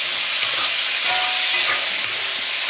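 Chicken thigh pieces fry in a pan for yakisoba, giving a dense, steady sizzle that stays loud and close throughout.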